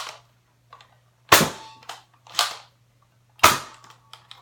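A Nerf toy blaster fires three sharp, loud snapping shots in a few seconds, each followed by a short clatter, with quiet gaps between.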